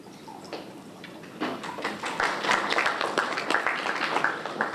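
Banquet audience applause, starting as scattered claps and swelling at about one and a half seconds into fuller, sustained clapping from a roomful of seated diners.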